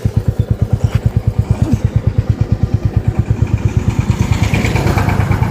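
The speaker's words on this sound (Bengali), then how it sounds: "আবার ড্রাইভার চেঞ্জ, রিমি চালাচ্ছে গাড়ি এবার" A Royal Enfield motorcycle thumps along while being ridden, its single-cylinder engine pulsing in a fast, steady beat, close and loud throughout.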